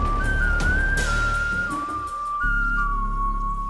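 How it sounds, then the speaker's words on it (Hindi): A person whistles a steady, sustained tune that shifts between a few held pitches, loud and close over low background noise, with no talking. "और ये सीटी क्या बजा रहे हो तुम?"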